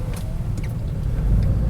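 Dense road traffic on a drive in Canada, with a festival going on up ahead, rumbles as a steady low vehicle drone from the car, with no voices.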